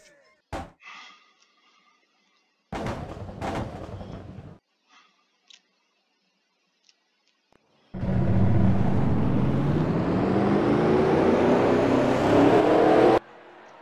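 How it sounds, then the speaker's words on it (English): Race car engines at a track start with short scattered bursts between quiet gaps, then swell into a loud, sustained, rising roar of revving engines that cuts off abruptly. "Drivers, start your engines!"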